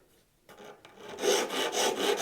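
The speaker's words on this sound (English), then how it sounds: "give these a quick kind of rub over with a file" A file rasping across bass guitar frets installed on a thinline bass, starting with a few light scrapes, then settling into steady, loud back-and-forth strokes.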